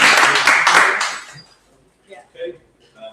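Applause from an audience at a candidates question time, a short loud burst of clapping that fades out after about a second, followed by quiet with a few faint voices.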